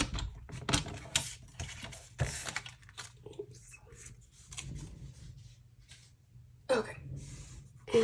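Black paper being trimmed with a cutter at a craft table, giving brisk scraping and slicing strokes in short bursts close by, with someone talking between them.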